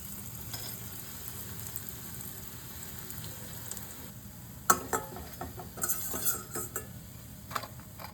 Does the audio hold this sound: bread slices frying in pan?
yes